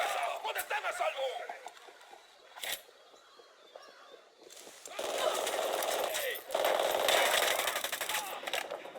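Machine-gun fire in the video game Ghost Recon Wildlands: scattered shots early, then a loud sustained automatic salvo in the second half, with voices talking over the action.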